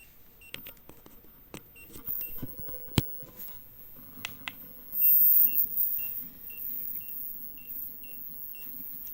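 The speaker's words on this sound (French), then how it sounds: "Je vais l'arrêter parce qu'il n'arrête pas de bip bip bip bip bip" Short electronic beeps from a camera stabilizer repeat at intervals, faint and thin against a quiet room with occasional knocks and handling noises.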